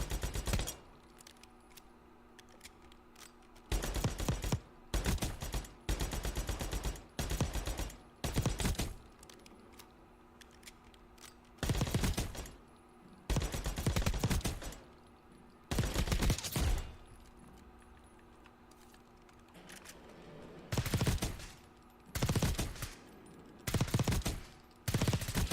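Bursts of rapid automatic gunfire in a first-person shooter video game, several separate volleys of a second or two each, loud and close, with quiet gaps between them.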